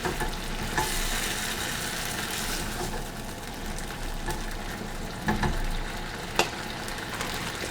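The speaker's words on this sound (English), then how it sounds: "4 cups of mixed greens. Give this a little stir." Mixed greens for a Chinese chicken salad tossed and stirred in a bowl, a steady rustling, crinkly noise close up with a few sharper clatters.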